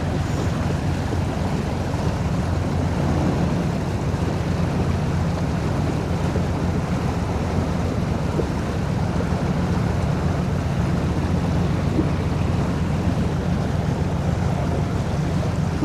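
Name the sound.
launch boat engine and propeller wash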